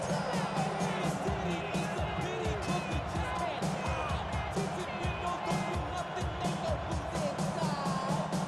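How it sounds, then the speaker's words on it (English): A virtual stadium crowd roars in the Madden NFL 26 football game, a steady, dense din of cheering that holds throughout while an announcer's voice talks over it. "this crowd into it now"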